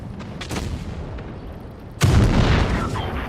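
A tank cannon shot in the mobile game Tanks Blitz lands as a sudden loud broadband boom midway, followed by sustained rumbling battle noise; lighter game sounds come before it.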